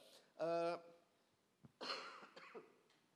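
A man with flu coughs once, sharply and close, in a church service setting, followed by a throat-clearing and brief voiced sounds, quiet room otherwise.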